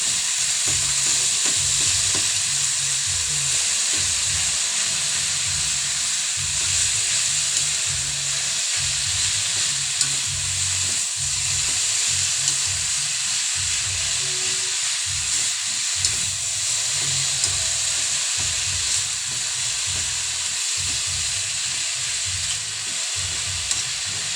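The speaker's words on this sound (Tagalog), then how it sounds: "Nilalagay ko ng papaya. Haluin." Papaya frying in a pan for adobo as it is stirred: a steady, loud sizzle and hiss with repeated soft scraping strokes of the spoon, and no voices.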